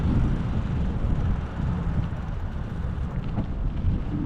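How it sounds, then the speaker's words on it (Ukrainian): Strong wind in Poltava buffets the microphone in a continuous low roar, gusting unevenly with no voices. "Ой, вітер почався."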